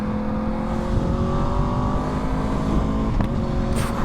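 A Xtrenta supercar engine roars loudly and continuously at high revs, with rising tonal whine and a sharp crackling exhaust pop burst near the end.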